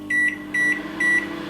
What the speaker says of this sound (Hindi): और अब हम इसे माइक्रोवेव में ऐड करेंगे और let it cook for 2 minutes